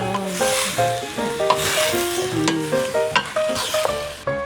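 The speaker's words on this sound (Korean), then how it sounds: "무가 숨이 살짝 죽을 때까지 볶아주세요." Radish pieces stir-fried in a pot for Korean beef radish soup: a steady, close sizzle broken by repeated scraping stirs of the spoon against the pot, with no voices.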